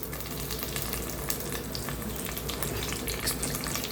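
Hot oil frying in a pan for chicken makes a continuous soft sizzle with fine crackles, steady and fairly quiet throughout, close with no talking.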